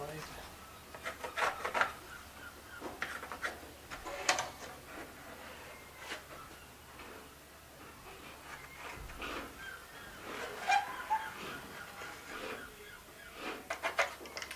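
Pencil lines are drawn on a plywood boat mould in soft, scratchy strokes at irregular intervals, with quiet background noise and muffled talk.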